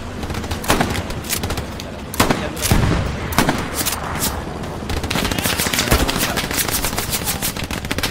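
Sustained machine gun fire in the World War II shooter Hell Let Loose, loud, rapid cracks with sharper bursts scattered through, with voices talking faintly underneath.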